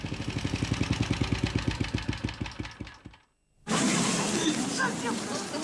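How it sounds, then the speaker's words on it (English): A quad bike engine idles close by with a steady, rapid thumping pulse for about three seconds, then cuts out into brief silence before a loud, broad rushing noise takes over. "I heard the unfamiliar sound of an engine. The master had come down from the mountain"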